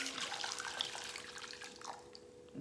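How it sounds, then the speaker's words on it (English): Water poured out of a 10-inch deep gourmet skillet, a faint trickling and splashing stream, close but quiet, tapering off at the end. "I'll empty some of the water because this should be soft by now"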